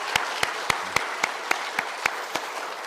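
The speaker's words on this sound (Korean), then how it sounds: "우리 박수로 격려 한번 하겠습니다." Church congregation applauding to encourage Sunday school teachers, a dense wash of clapping punctuated by sharp, evenly spaced louder claps in a steady rhythm.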